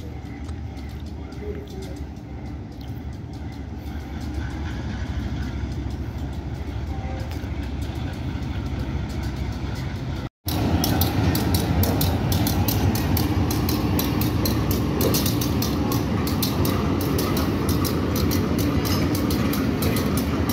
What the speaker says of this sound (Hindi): ट्रेन रिवर्स आ रही है प्लेटफार्म की तरफ मच रेलवे स्टेशन के।